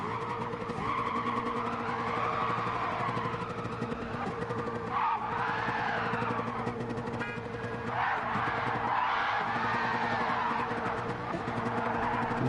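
A race car spins out and skids in Gran Turismo 7, its engine droning steadily while tires squeal in long sweeping arcs, loud and continuous with no talk over it.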